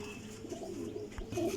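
Teddy pigeons coo softly at close range, low throaty murmurs repeating over faint background noise.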